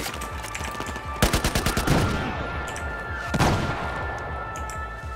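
Battlefield 4 gunfire on the Nepal map: two sharp bursts of rapid automatic shots ring out over a steady background of battle noise, with scattered distant fire in between.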